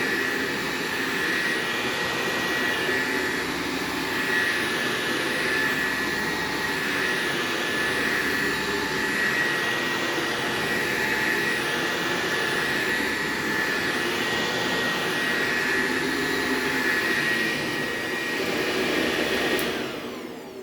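An upright vacuum cleaner, a Dyson DC17 or Shark Apex, runs on carpet with a loud, close, continuous motor whine and airy roar that hardly changes for about twenty seconds.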